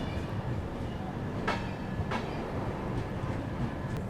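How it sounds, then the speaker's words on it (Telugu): The Tirumala Express standing at Koduru railway station: a steady low train rumble with two sharp hissing bursts, likely brake air, heard close from on board. "ఇక్కడ కేవలం మన తిరుమల ఎక్స్ప్రెస్ కేవలం 1 నిమిషం మాత్రమే ఇక్కడ హాల్టింగ్ ఉండబోతుంది"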